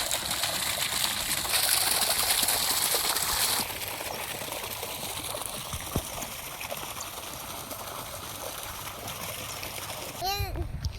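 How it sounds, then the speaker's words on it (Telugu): Water rushes and splashes steadily close by through a field channel, with faint voices in the background. The flow softens partway through and carries on. "ఇక్కడ మా వాటర్ పోతున్నాయి. దీంట్లో ఎలా పోతున్నాయో చూడండి."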